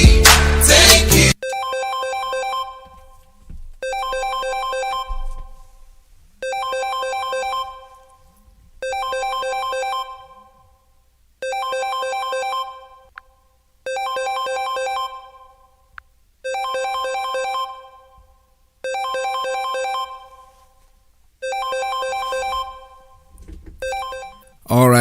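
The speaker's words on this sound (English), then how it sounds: "that's an interruption from the phone that is ringing" A phone ringtone repeats in about nine evenly spaced bursts with gaps between them. It cuts across a live radio broadcast, and a voice is heard briefly at the start and at the end.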